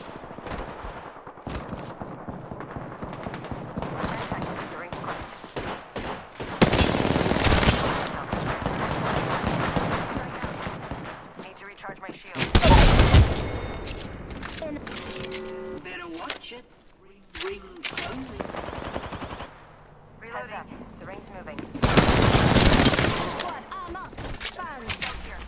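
Bursts of rapid gunfire in Apex Legends come in several loud volleys separated by quieter stretches of game sound and talk.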